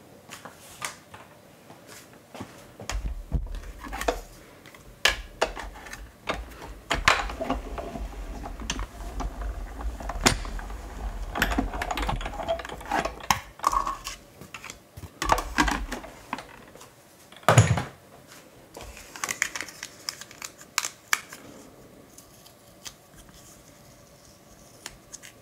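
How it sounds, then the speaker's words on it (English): Paper is pressed through a die cutting machine to cut a circle about 1¾ inches across, giving a long run of low rumbling and scattered crisp clicks and rustles at close range, with no talking. "And die cut that."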